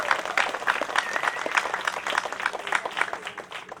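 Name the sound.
audience applause for the staff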